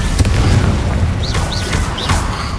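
Bombarda explosion spell cast in Hogwarts Legacy, a dense, booming blast that rumbles continuously at full loudness with whooshing magical swirls rising above it.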